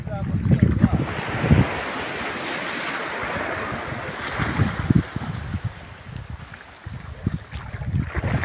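Ocean waves rolling onto a beach at the sea shore, a near, loud wash of surf with gusting wind buffeting the microphone, surging and easing in uneven swells.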